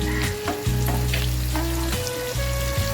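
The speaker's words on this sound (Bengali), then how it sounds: "পেঁয়াজটা ভাজা হতে হতে এর মধ্যে দুটো কাঁচা লঙ্কা কুচি দিয়ে দেবো।" Chopped onion and green chillies frying in hot oil make a close, steady sizzle with occasional stirring scrapes, over a constant low hum and with no voices.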